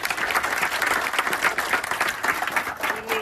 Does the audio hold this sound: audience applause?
yes